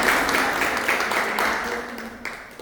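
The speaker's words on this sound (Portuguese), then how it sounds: "Aplauda o Senhor pelo Gesiel." Church congregation at a Bible teaching session claps in a steady, moderately loud burst of applause, with a voice briefly audible beneath the clapping.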